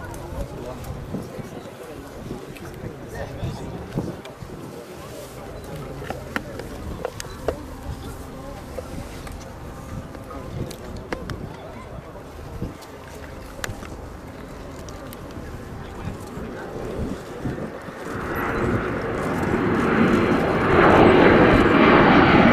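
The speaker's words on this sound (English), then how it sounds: "the P1 coming in again from our right, this time up to 250 knots" A Kawasaki P-1 maritime patrol jet with Japanese-built XF7 engines makes a faster pass at the RIAT 2015 airshow, its engine roar swelling to a loud, broad rush near the end, with a commentator talking over the rising approach.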